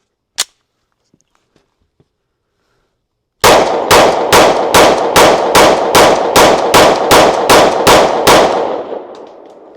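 S&W M&P 10mm pistol firing HSM 200 grain loads outdoors: one early shot, a pause, then a rapid string of about thirteen loud evenly spaced gunshots, ending with a fading echo.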